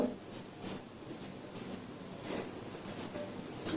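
A pen scratches across paper in short, faint strokes with small pauses, heard alone in a quiet room.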